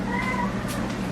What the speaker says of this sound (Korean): 근데 밖에서 고양이가 울고 있습니다.